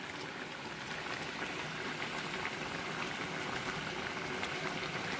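Curd curry with pointed gourd bubbling in a pot, a steady dense simmering hiss with fine popping texture running continuously at an even, moderate level with no talk.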